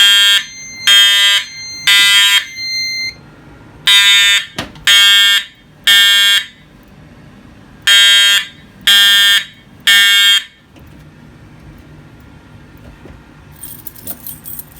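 A model 792 fire alarm horn sounds during a system test, giving loud, harsh bursts in an uneven pulsing pattern of about nine blasts over ten seconds, then falling quiet to faint room noise.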